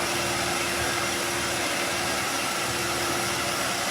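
Steady loud whirring drone of a wood lathe spinning as a small Christmas tree house decoration has its bottom rounded over, a continuous broadband hiss with no talk.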